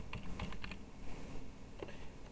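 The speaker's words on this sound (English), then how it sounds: "So type in a new password" A new password typed on a computer keyboard, a few quiet, close key taps in small clusters with short pauses between them, over a faint room hiss.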